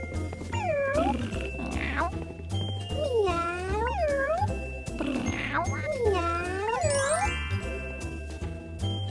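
Several playful, sliding cat meows from the kids' counting game Farm 123 sound in quick succession over cheerful game music with tinkling chimes.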